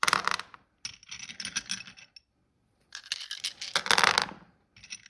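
Dice clatter and rattle across a hard surface in two bursts, with brief quiet gaps between the tumbling clicks.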